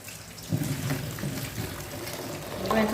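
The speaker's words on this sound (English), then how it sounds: "I'm going to rinse these to get rid of some more of the salt" Tap water runs steadily into a sink while salt mackerel flakes are rinsed to draw out the salt, a close, continuous splashing trickle with a brief louder gush near the start.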